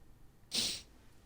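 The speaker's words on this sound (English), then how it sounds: "Bless you. Oh, he's sneezing." A single short, sharp human sneeze bursts out close by, a quick hiss-like explosion lasting under half a second against quiet room background.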